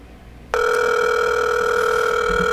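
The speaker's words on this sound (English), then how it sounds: "I hope Mastery picks up" A telephone ringback tone sounds while a call is placed, one steady, loud, continuous electronic tone that starts abruptly after a brief quiet moment and holds without a break.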